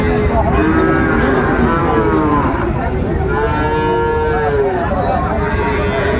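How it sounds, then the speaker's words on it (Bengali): Sahiwal cattle at a livestock market in Dinajpur moo loudly and close by in two long drawn-out calls over a constant crowd and market din. "এখানে বেশ সুন্দর একটি গরু সেরা মানের কোয়ালিটি"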